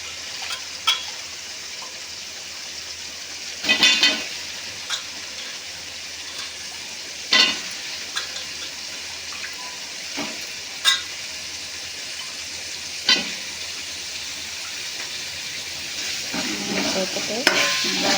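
Radish pieces sautéing in a pan with softened tomato for sambar: a steady low sizzle runs throughout, broken by several sharp scraping stirs of a spoon against the pan at irregular intervals, close and alone with no talk.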